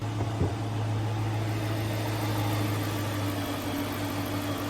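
A car engine catches with a brief bump, then settles into a steady, low idle hum at moderate volume with no voices.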